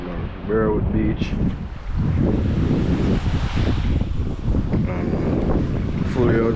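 Surf and gusty wind at Burwood Beach in Jamaica, waves rolling in steadily under heavy wind buffeting, with people talking over it at times.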